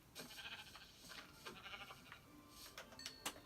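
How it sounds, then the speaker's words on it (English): Sheep bleating in the video game Minecraft, a few short faint bleats scattered over a quiet in-game background with no talk. "Oh, is that another white sheep over there?"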